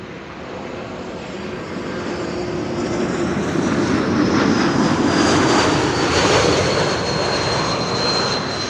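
Embraer E195-E2 jet arriving at Amsterdam Schiphol from Oslo, a steady engine roar building gradually and holding loud and broad, with a faint high whine riding on top.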